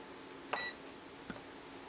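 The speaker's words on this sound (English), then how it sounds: "so then I turn it to the non-contact voltage setting. Turn it to the non-contact voltage setting. It kind of beeped at me." A digital multimeter set to non-contact voltage gives a short, faint electronic beep, followed by a second, softer blip a moment later, in a quiet room.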